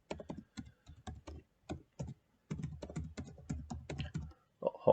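An email address being typed on a computer keyboard: bursts of close, crisp key clicks in quick rhythmic runs separated by brief pauses, with no voices.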